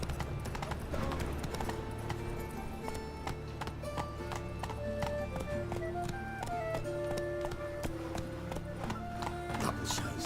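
Horse hooves clip-clopping in The Witcher 3, a steady rhythmic trot of hoof strikes carrying throughout, under game music with sustained tonal notes.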